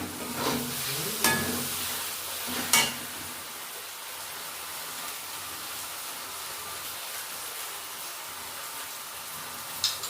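Turmeric, chili powder, coriander, cumin and green chilies sizzle in a pan for chicken curry, a steady close frying hiss with a few brief stirring scrapes early on and no talk.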